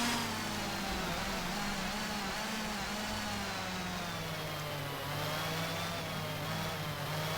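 A race car engine in the GTR2 racing game at Laguna Seca holds a steady, high-revving whine with slight pitch shifts, heard alone at moderate volume.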